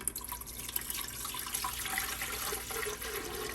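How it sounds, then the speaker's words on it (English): Distilled water pours from a plastic gallon jug into a cool-mist humidifier tank, a continuous close splashing and gurgling stream with no talking. "So I'm just using some distilled water that I keep in this gallon."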